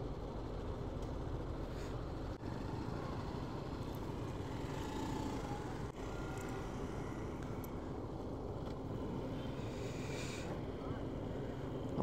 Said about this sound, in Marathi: ही बोट आहे जिच्यात आपण जाणार आहेत.